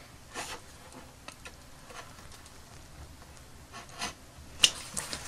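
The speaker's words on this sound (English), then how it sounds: "It will cut straight through the acetate." A craft blade slicing through an acetate sheet, faint scratchy strokes recurring at irregular intervals with one sharper snip near the end, quiet and close with no voices.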